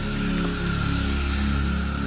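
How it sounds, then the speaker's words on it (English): A Melnor rotor garden sprinkler spraying water with two sprinklers hooked up on reduced pressure, a steady close hiss with a faint ticking pulse running throughout. "it's not spraying nearly as far with two hooked up"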